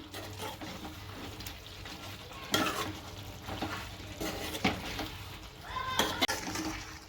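A chicken biryani mixture with squeezed lemon is stirred in a pot, giving a steady wet scraping and squelching with a few louder spoon strokes, close and continuous, no voices.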